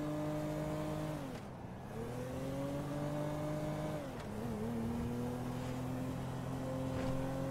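A car drives in the game GTA V, its engine a steady hum that rises and falls as the pitch shifts with speed, running continuously and fairly close, with no voices.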